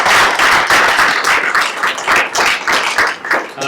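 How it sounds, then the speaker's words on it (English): An audience at a discussion event gives a round of applause, a steady close wash of many hands clapping with no talk over it. "I want to recognize you as well and give you a round of applause"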